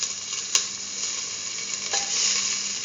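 Ginger frying in hot oil in a pan, a steady bright hiss with a couple of brief clinks from a utensil, close and loud with no talk.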